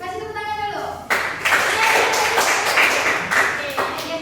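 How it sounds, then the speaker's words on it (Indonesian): A classroom of students claps for a classmate after her presentation, a dense burst of hand claps starting after about a second and continuing steadily, with voices talking underneath. "Kasih tepuk tangan dulu."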